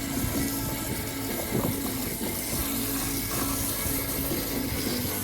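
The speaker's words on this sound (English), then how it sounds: "You can wash with the pressure water." Pressurized water from a household water line sprays over a Whirlpool dryer's lint screen to wash off heavy lint, making a loud, steady rushing hiss that runs unbroken with no talking.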